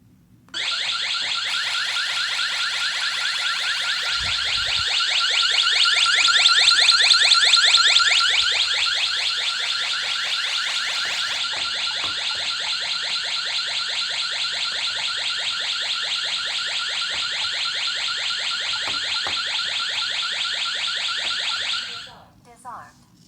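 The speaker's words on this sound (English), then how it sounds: "I'm going to set the alarm off quickly, and so sound will come out of here" A Ring Alarm home security siren wails loud and shrill from the base station, continuous for about twenty seconds, steady and piercing, then cuts off abruptly.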